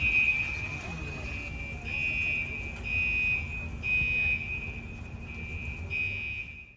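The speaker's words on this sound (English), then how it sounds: "So the reason for the fire alarms going off in the stores was" A fire alarm sounds inside a hair salon, a piercing electronic tone repeating in long pulses with brief gaps, steady and loud against background chatter and room noise.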